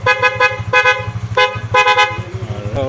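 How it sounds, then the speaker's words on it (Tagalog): Horn on a Honda Winner X motorcycle honks loudly and close in a quick series of short toots over a steady engine idle, with no talking. "loud horn."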